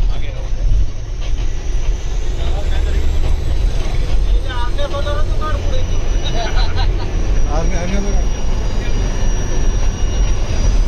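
Loud, steady rail rumble runs throughout, with brief squealing tones and people talking nearby over the noise, as a group catches a train.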